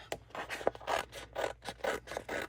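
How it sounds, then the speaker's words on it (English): Nonstick scissors cut through a scrapbook sticker sheet in a quick series of crisp snips and slicing rasps, close and fairly quiet, with no talking. "I'm just going to take my nonstick scissors, and I can see the title is right here. I'm just going to cut"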